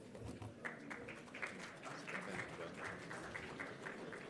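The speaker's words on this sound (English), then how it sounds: "Shall we please give Mr. van Schalkwyk a massive round of applause to introduce his panel?" Audience at a hydrogen business summit applauding a panel moderator, a soft steady patter of clapping heard from a distance, faint but continuous for a few seconds, with some murmur underneath.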